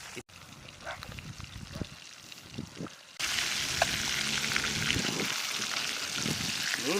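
Salted, spiced fish frying in oil at an outdoor village cooking spot, a steady close sizzle that jumps louder partway through and keeps crackling, with voices talking now and then.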